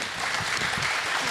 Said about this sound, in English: So big applause for Elizabeth.